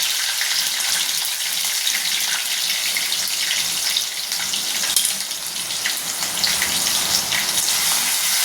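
Chili, curry leaves and ginger-garlic paste fry loudly in hot oil in a pan, a bright, dense, steady hiss that spits and crackles throughout without pause.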